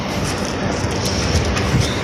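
A train pulls into a station platform with a steady, loud, close rumble and rolling rail noise running throughout, without any voices.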